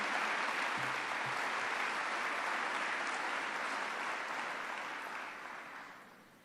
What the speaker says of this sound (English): Let's give a round of applause to all of our young people who are gathering here today.